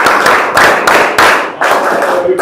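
An audience at a ceremony honouring ranked students claps loudly and close in rhythmic bursts. Several strong waves of clapping each start sharply and then ease off briefly before the next begins.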